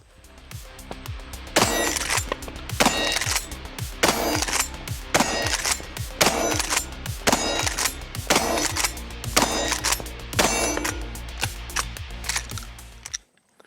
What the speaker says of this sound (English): So now from here, as I shoot, I'll pump it just like a traditional shotgun.